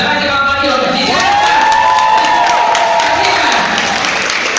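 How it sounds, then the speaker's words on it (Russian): A school audience applauds after a dance performance, dense continuous clapping from a crowd with a few faint cheers and voices mixed in, loud and sustained for the whole stretch. "Давайте вам аплодисменты"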